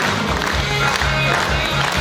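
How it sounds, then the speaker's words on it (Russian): Brief burst of vigorous applause from an audience at an awards ceremony for agricultural workers, dense clapping with a low pulsing thump beneath it. "На ваши бурные аплодисменты."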